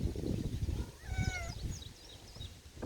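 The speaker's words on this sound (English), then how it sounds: "my calico cat, Callie, will be helping me" A calico cat gives a short, high meow midway, heard close against a background of rustling and handling noises.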